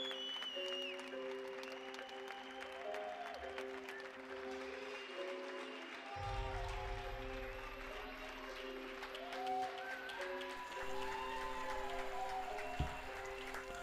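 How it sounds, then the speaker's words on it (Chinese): Madrid residents cheer medical workers at night from balconies, with faint, distant applause echoing between buildings alongside whistles, shouts and a low rumble of the city, all spread out and quiet. "马德里的晚上也是大家都在鼓掌"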